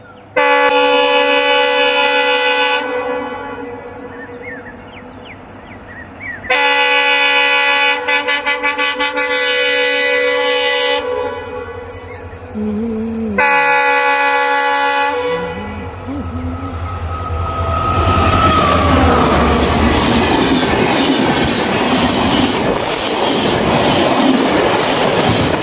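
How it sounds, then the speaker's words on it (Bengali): The Vivek Express, the Dibrugarh to Kanyakumari train, sounds long, loud horn blasts in several bursts as it approaches, then rumbles past close by with rolling wheel noise. "ইন্ডিয়ার সব থেকে বৃহত্তম লং জার্নি ট্রেন বিবেক এক্সপ্রেস আসতেছে এই লাইনটায়।"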